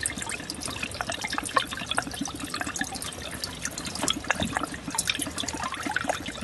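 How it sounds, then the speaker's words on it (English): An air pump set on high drives bubbling water in a DIY deep water culture hydroponics system, producing a constant, close, busy gurgle of popping bubbles and trickling water throughout. "We got the air pump on high. And this is what it's doing."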